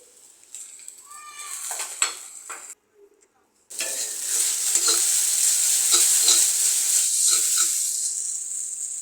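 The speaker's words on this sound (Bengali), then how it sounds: "ভালো করে ভাজা হয়ে গেলে সেখানে নুডলসগুলো ঢেলে দিতে হবে। এরপর ভালো করে নাড়াচাড়া করতে হবে।" Noodles stirred and fried in a pan, a steady hiss of sizzling with scraping stir strokes, briefly interrupted before resuming louder and continuous.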